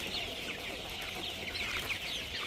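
A flock of hens crowds in to feed, keeping up a continuous, fairly faint chatter of overlapping clucks with no voices.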